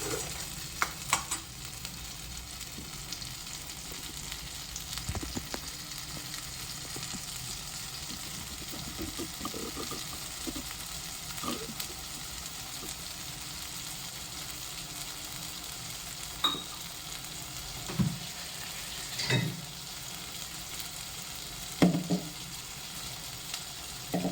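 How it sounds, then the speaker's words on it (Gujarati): Paneer butter masala being stirred and fried in a pan, a steady soft sizzle under intermittent scraping strokes of a spoon against the pan, close and moderately quiet. "બધું બરોબર મિક્સ કરી લઈશું"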